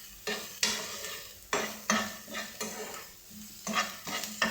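Paneer bhurji sizzling as it fries in a pan and is stirred with a spoon, with repeated scraping strokes in an uneven rhythm over a steady hiss of frying, close up and without talk.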